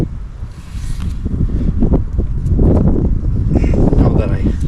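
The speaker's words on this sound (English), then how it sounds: "It's windy out today." Wind buffeting a microphone outdoors where a motorcycle tire is being mounted, loud gusty low rumbling that swells and surges throughout.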